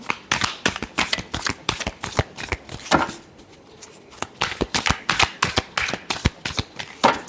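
Tarot cards are shuffled in a string of quick, crisp riffles and flicks, close up and fairly loud, with a brief pause in the middle before the rapid shuffling resumes.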